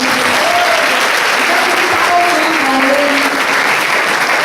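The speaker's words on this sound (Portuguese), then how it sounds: "aplauda Ele mais uma vez" Congregation applauding at a women's congress of the Igreja Casa da Bênção, a continuous, loud wash of clapping from many hands, with voices mixed in.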